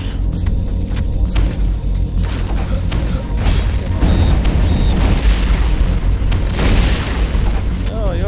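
Plasma rifle fire in Turok 2 multiplayer from 1998: rapid, repeated blasts and booms crowd a loud, busy firefight, mixed with mechanical clatter throughout.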